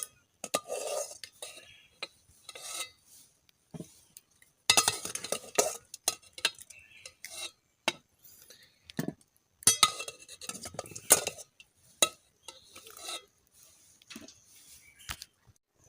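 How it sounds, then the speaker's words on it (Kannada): Boiled potatoes tipped from a cooking pot into another vessel to cool while making aloo bonda, with irregular clatters, scrapes and metallic clinks of utensils coming in close bursts and brief pauses between them. "ಬಟಾಟೆಯನ್ನು ಬಿಸಿ ಆರಲಿಕ್ಕೆ ಒಂದು ಪಾತ್ರೆಗೆ ಹಾಕಿಟ್ಕೊಳ್ಬೋದು."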